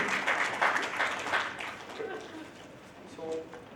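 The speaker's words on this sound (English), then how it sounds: "Can we have a big round of applause for the speakers," Conference audience applauding the speakers, a dense wash of many hands clapping that is loudest at first and gradually thins, with a faint voice murmuring underneath.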